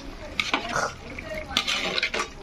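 A spoon stirs gravy in a pot in quick, close scraping strokes with a few metallic clinks, over a faint simmer.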